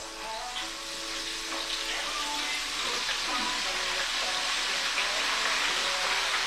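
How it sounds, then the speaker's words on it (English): Calamari pieces laid into oil heated to 350 degrees, a continuous dense, bright sizzle and crackle that holds steady throughout, close by with no talking. "You want to gently lay your calamari into the oil"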